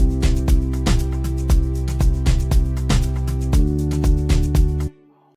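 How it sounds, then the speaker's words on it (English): A Kepler bass guitar plugin plays a bass line following the chords in an Afro House track, with steady kick drums and percussion thumping on the beat throughout, until the music stops abruptly near the end. "So let's start with a bass line that follows the chords."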